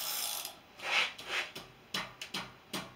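A 3/4 inch ratchet wrench turning over the engine of a 2004 Chevy Blazer 4.3 clicks in short bursts, a handful of sharp ratcheting taps spaced irregularly, close and fairly quiet.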